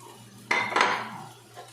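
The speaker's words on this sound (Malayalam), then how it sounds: "ഇനി ഇതിനകത്ത് നല്ലോണം ഇളക്കി" Tomatoes and chilli stirred in a pan for a Kerala crab roast, giving a short burst of spoon-on-metal scraping and clatter, close and fairly loud, then fading to a light rattle.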